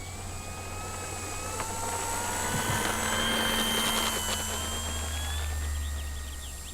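Durafly Supermarine Spitfire Mk2a RC model airplane flying at dawn, its electric motor whine sweeping and shifting pitch as it passes overhead, moderately loud and steady with no talk.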